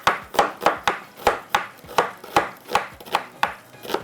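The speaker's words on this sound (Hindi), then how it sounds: "अब हम कटिंग करते हैं प्याज को।" An onion is chopped with a knife on a cutting board, giving about a dozen sharp, evenly spaced chops in a steady rhythm, close and clear with no talk.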